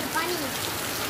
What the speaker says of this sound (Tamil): பாருங்கள் எப்படி மழை பெய்யுதுன்னு